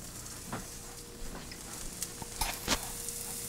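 Garlic sautéing in a hot pan, a soft continuous sizzle broken by a few sharp ticks and small clatters of stirring, fairly quiet and with no talking.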